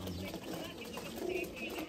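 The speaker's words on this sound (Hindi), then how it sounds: "ਸ਼ਾਹੀਨ ਕਬੂਤਰ," Shaheen pigeons coo softly and continuously, low and faint against a constant background hum.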